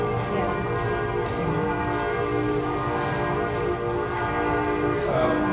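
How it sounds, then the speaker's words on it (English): Bells ring in a steady sustained wash of overlapping tones that hang and shimmer continuously, fairly loud over a low rumbling background. "That's a good sign the bells are going."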